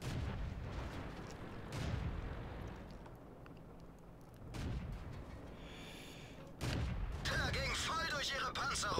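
Heavy tank cannon booms fire at intervals in World of Tanks, deep and loud with rumbling tails, joined by a voice talking over the battle noise.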